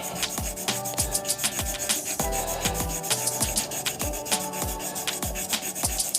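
Gold resin spins on a wood lathe while sandpaper is pressed against it, giving a steady rhythmic rubbing rasp that pulses with each turn, close and fairly loud with no talking.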